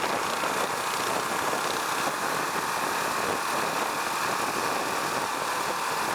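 Husqvarna Vitpilen 701 motorcycle with a 692cc single-cylinder engine, heard as a loud, steady engine drone mixed with heavy wind rush while riding, continuous for the whole stretch with no talk.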